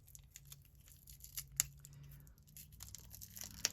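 Package being carefully torn open during a sticker and card unboxing, producing faint, quiet tearing and crinkling with a few sharper rips, alone without talk.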